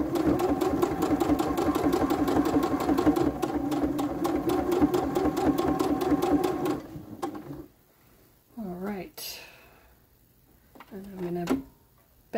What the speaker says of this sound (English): stitch down a little bit more, and I'm actually going to go ahead and turn this and stitch this off a bit.